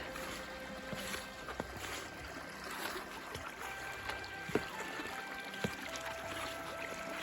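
Steady broadband rush of a shallow river flowing over stones in winter Bukovina, Ukraine, with faint trickles and a few small splashes, continuous throughout with no voices.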